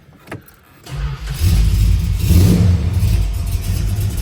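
A 1968 Dodge Charger with a 383 V8 cranks briefly, then catches and settles into a loud, throaty rumble with a rev swell in the middle, close by and alone.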